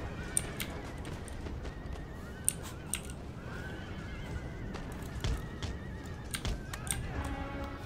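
Cavalry horses charging in the Empire: Total War battle game, a dense rumble of galloping hooves with repeated whinnies and neighs and sharp clattering hits, busy and continuous, with someone talking over it.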